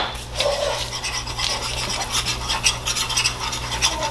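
A spoon scrapes and rasps against the bottom of a pot while stirring a gumbo roux, a continuous gritty scratching with uneven strokes over a low steady hum, no talking.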